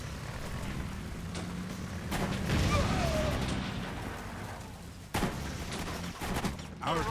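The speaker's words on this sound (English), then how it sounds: "Our troops are under fire." Gunfire crackles through a battle in the World War II strategy game Blitzkrieg 3, with scattered shots and rumbling bursts. Sharper cracks stand out near the middle and end against a constant low battle din.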